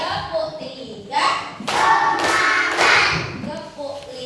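Class of third-grade primary school children clapping in a counted classroom ice-breaker, bursts of group claps in rhythm, loud and close, mixed with voices.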